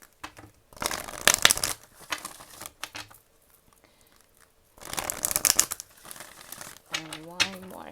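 Oracle cards being shuffled by hand in two brisk bursts of dense papery riffling and flicking, close and fairly loud, separated by a quiet pause, with a brief voice at the end.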